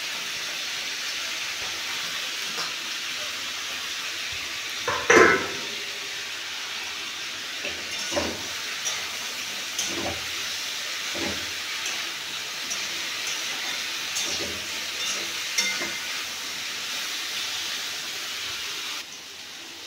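Eggplant hitting hot oil in a pan sets off a steady, close hiss of frying, with a brief louder burst of spattering near the start and smaller crackles scattered through it.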